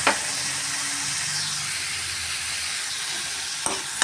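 Tomatoes hiss and sizzle as they hit a hot pan for masala pattani, a broad steady frying crackle with faint clatters at start and end, no talking.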